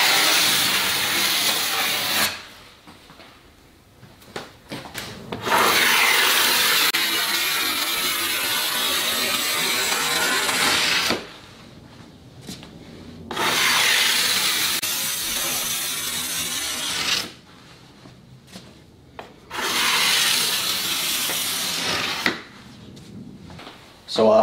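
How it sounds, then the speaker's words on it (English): A hand scraper takes shavings off timber for a bent-lamination baby cot, heard as long rasping, hissy strokes repeated four times with near-silent pauses between them. "If I could get shavings like this off a scraper every single time,"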